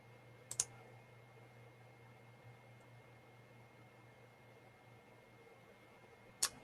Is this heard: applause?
no